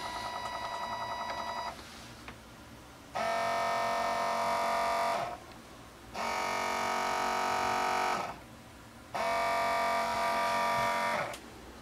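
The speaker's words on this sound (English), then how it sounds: "hold the motor because it's going to speed up quite a bit and throw itself around" An electric motor driven by a high-voltage IGBT H-bridge circuit whines in bursts of about two seconds each, four in all. The tone steps up and stays steady within each burst, with short quiet gaps between them.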